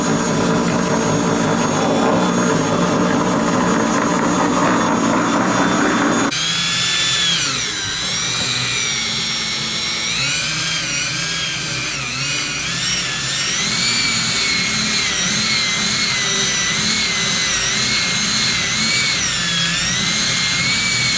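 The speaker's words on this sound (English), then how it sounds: "This is a ghetto grinder." A cheap angle grinder cutting the corner out of a car fender on a Mazda RX-7, a loud, close, high whining screech that shifts pitch as the disc bites into the metal, continuous for the whole stretch.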